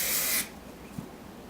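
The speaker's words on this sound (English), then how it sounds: "you can add a little bit of hairspray" Hairspray from an aerosol can sprays in one steady, close hiss for about half a second and then cuts off, leaving quiet room tone with a faint tap.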